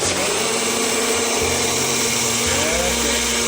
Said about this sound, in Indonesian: tinggal kita blender aja guys ya